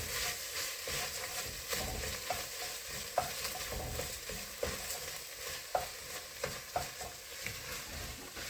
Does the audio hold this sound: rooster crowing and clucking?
no